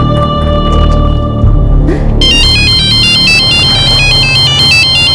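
A loud electronic phone ringtone begins partway through, a repeating melodic pattern of bright beeping tones over a low background hum.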